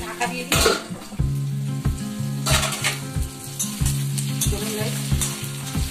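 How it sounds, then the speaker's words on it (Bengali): Large, unboiled potato pieces fry and sizzle in a covered pan, a steady crackle running throughout with a rhythmic musical backing beneath it. "চলুন একটু ভালো করে ভেজে নিই।"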